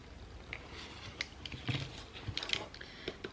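Scrapbooking paper being cut for a beginner's album cover, with a string of quiet, close snips and crisp paper rustles in irregular bursts, no talking.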